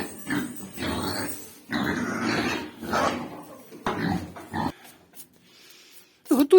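Pigs grunt and snuffle in repeated low, rough bursts close by during morning feeding on a Ukrainian village farm, followed by a quieter stretch and a sudden squeal-like grunt at the end.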